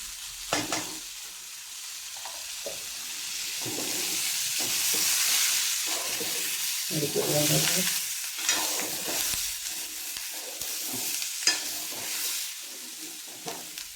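Onions and curry leaves fry in a pan for a country chicken curry. A continuous close sizzle runs throughout under repeated stirring scrapes and clatters, with the hiss swelling in the middle.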